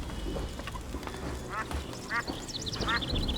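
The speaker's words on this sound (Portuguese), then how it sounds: "Esse pato." A duck quacks three times in The Witcher 2 video game, clear bursts spaced about half a second apart over forest ambience and birdsong, with someone talking beneath.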